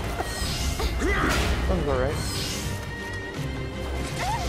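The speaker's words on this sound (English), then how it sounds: "I just got her in a corner and I'm smashing her in the head with overhead strikes." Repeated overhead strikes with a big stick in the video game Nioh, heavy smashing impacts and whooshes mixed with game effects, with a voice talking briefly over them.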